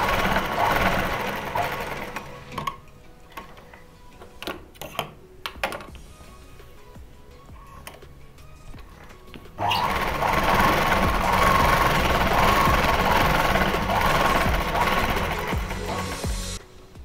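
Sewing machine stitching a Patiala salwar, running in a steady whirring burst in the second half after a quieter stretch of scattered clicks and handling noises; close and fairly loud, with no talking.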